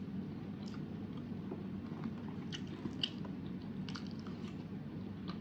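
Close, steady chewing and biting of crunchy fried meat that is tender inside, with soft crunches and moist mouth sounds, no talk.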